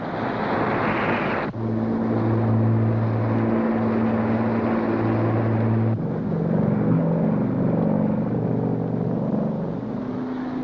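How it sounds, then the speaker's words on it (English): A steady, loud droning of P-38 Lightning fighter planes in flight during a World War II intercept, with layered engine hum that shifts pitch partway through and continues without a break and without any talk. "from Guadalcanal, 18 P-38 Lightning fighters took off to intercept Yamamoto."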